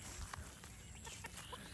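Chickens feeding in a harvested rice field give soft, scattered clucks at a distance over steady outdoor ambience.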